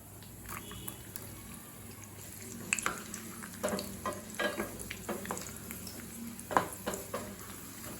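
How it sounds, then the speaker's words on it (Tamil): Cashews and raisins frying in ghee in a kadai, a soft steady sizzle with scattered crackles and clinks of a spoon stirring, fairly quiet and close. "கடாயில் தேவையான அளவு நெய், கொஞ்சம் முந்திரி, அடுத்தது கொஞ்சம் திராட்சை சேர்த்துக்கலாம்."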